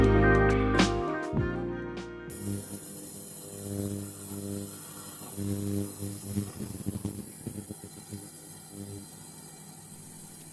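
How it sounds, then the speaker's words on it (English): Small Lidl ultrasonic cleaner filled with hot water and bike degreaser, cleaning a bicycle cassette, giving a steady buzzing hum with shifting tonal layers after a few loud handling bumps at the start, moderately loud and without talk. "The buzzing noise you can hear while it's cleaning"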